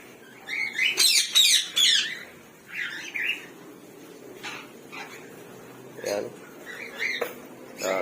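Several birds in an aviary chirp and squawk in short, bright bursts, some overlapping, with quieter calls scattered between against a low background hum.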